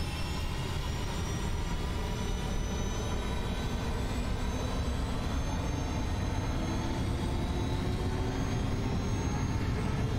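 A Falcon 50 business jet in a flight simulator game runs its engines at takeoff power during the takeoff roll, a steady, even roar with rising whine that holds unbroken throughout.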